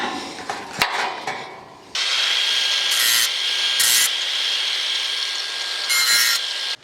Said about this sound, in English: again I'll swap the disc out and grind the edges off